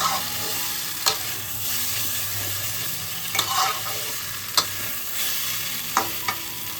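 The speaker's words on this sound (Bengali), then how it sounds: "আলুটা দিয়ে মশলাটাকে কষাবো।" Fried potatoes sizzling in spice paste for aloo dum, a steady frying hiss with occasional sharp scrapes of a spatula stirring the pot, close and alone.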